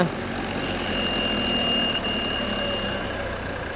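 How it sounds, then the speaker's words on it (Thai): A steady farm tractor engine drone with a low rumble and a thin whine runs throughout at moderate volume, idling or moving nearby on a road in Nepal. "นี้มีรถไถนาด้วยครับ"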